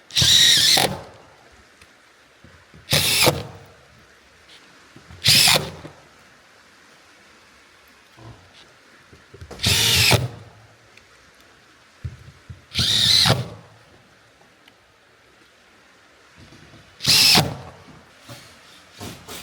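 Power drill driving screws into the wooden staves of an 8-foot panoramic barrel sauna with a porch, heard as six separate whirring bursts, each about a second long, spaced evenly with quiet gaps between them and no talking.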